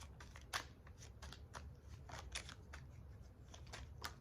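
Tarot cards shuffled and drawn close by, a quiet run of soft riffling flicks and light snaps with faint rustling between them.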